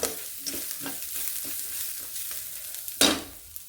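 Onions frying in a pan for a lunch box recipe, a steady close sizzle with scraping stirs at intervals and a louder clatter near the end.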